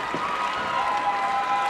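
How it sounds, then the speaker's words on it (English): Arena crowd at a 1980s Mid-Atlantic professional wrestling match, a distant, steady wash of cheering and crowd murmur without distinct claps. "our huge crowd is enjoying the action with Terry Taylor having the upper hand"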